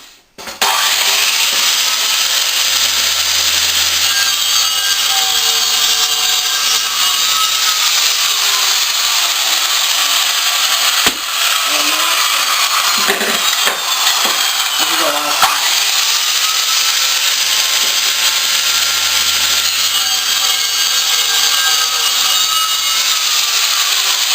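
Power saw cutting grooves in plywood for a drawer, a loud, steady, continuous cutting roar throughout with a brief dip midway, close and alone.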